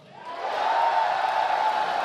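A live audience cheers and whoops to vote for going into the tunnel, the crowd noise swelling quickly and holding steady as a sustained roar.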